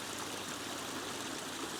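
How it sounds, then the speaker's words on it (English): A garden waterfall feature trickles and splashes in a continuous, steady babble of flowing water, close and fairly quiet, with no voices. "A misconception about having a water feature in your garden is it's going to be demanding and costly."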